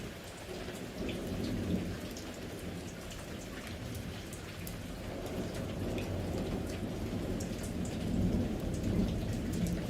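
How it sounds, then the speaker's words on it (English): Steady heavy rain pours down with a low, continuous rumble of thunder rolling underneath, swelling slightly toward the end; no voices. "Can you hear the rain from my background picture?"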